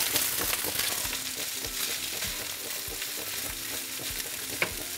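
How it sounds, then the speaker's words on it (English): Rice and cauliflower rice stir-frying in a pot, giving a steady, loud, close sizzle and crackle with faint stirring scrapes throughout and no talk. "We've got a good sizzle going on."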